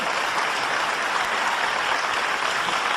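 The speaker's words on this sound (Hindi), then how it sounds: "5-7 लोग ताली बजा रहे हैं" Steady applause from a small audience at a Hindi poetry mushaira, continuous and fairly close throughout with no voices on top.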